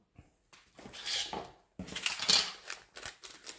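A small plastic sachet of diamond-painting rhinestones is torn and crinkled open close up, giving bursts of crisp rustling and crackling with brief pauses between pulls.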